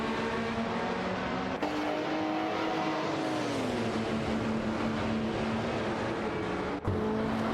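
Race cars lapping the Daytona Road Course in a racing video game, engines droning loud and steady with a pitch that rises and falls as they shift and pass, broken by a couple of brief cuts.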